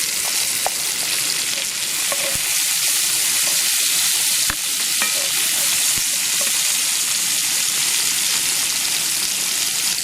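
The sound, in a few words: onions frying in pan for paella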